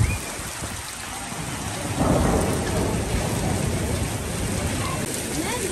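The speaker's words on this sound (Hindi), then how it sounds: "तेज़ बारिश हो रही है" Heavy stormy rain pouring onto a road in Quetta during the season's first rain, a dense steady hiss with a rumble of thunder, surging louder after the first couple of seconds.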